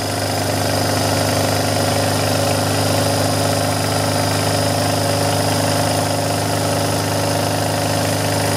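A Kromrey generator powered through a variac runs steadily with a constant mechanical hum and whine, loud and close, unchanging for several seconds with no voices.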